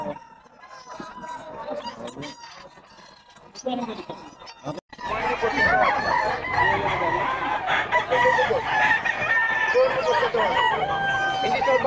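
Chickens cluck and a rooster crows repeatedly at the busy Bocaue pet market, the bird calls loud and continuous beneath people talking and bargaining nearby.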